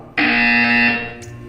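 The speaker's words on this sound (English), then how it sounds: "You will hear a buzzer." A harsh, loud electronic buzzer from the video game Portal 2 sounds once for about a second, a steady tonal blare that cuts off abruptly, followed by a short softer tone.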